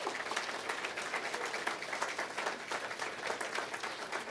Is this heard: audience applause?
yes